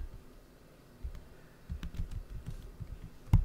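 Someone typing on a computer keyboard, faint irregular clicks and taps in short bursts, closer and busier toward the end, in a quiet room.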